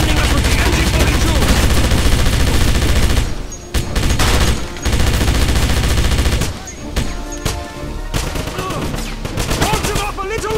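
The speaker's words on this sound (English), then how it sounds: "DJ, we need you defending us with the MG42!" Sustained MG42 machine-gun bursts in the Wolfenstein (2009) shooter, loud and close, rapid continuous fire broken by short pauses, with other gunfire and a voice shouting in the mix.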